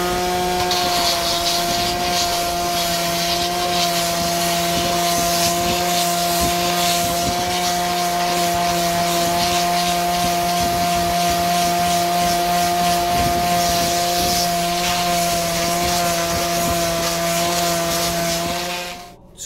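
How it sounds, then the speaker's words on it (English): A small hobby sander buzzes steadily against a 3D-printed Master Chief helmet, a constant high motor whine with a faint scratchy rasp of abrasion, close and uninterrupted until it cuts off at the end. "Great for little hobby sanding jobs."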